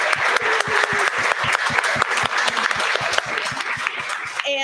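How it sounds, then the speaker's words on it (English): A live public forum audience gives a round of applause: dense, continuous clapping with crisp individual claps standing out, sustained and fairly loud for several seconds before starting to fade. "Let's give them a round of applause."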